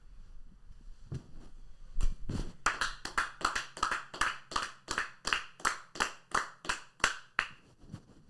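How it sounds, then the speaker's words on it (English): Hand clapping, a couple of loose claps followed by a steady series of about fifteen sharp, close claps in even rhythm. "3 claps for Jay Johnson"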